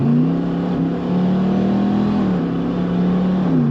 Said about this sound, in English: Kind of reminds me of when an older car has a lopey idle with an aggressive cam.